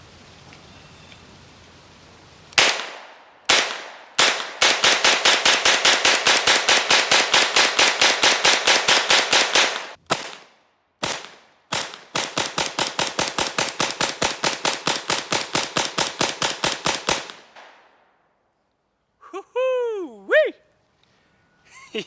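An HK UMP fires .45 ACP rounds in long rapid strings, loud sharp reports in steady fast rhythm, with a couple of separate single shots and brief pauses, followed by a short whooping voice at the end.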